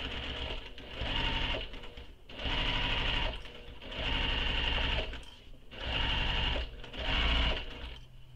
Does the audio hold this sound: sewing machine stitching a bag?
yes